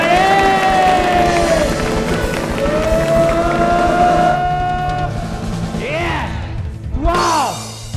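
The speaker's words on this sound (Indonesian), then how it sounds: "Kasih tepuk tangan, kasih suara." A talk-show audience applauds and cheers over loud stage music, a dense wash of crowd noise with rising whoops near the end.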